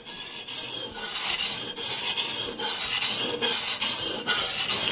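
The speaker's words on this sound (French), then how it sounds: "ça fait un bruit léger quand le couteau s'éloigne de moi et plus sourd quand je le ramène vers moi" Kitchen knife sharpened by hand on a Japanese water stone, close rhythmic scraping strokes repeating about every half second, each a steady gritty hiss, with no voices.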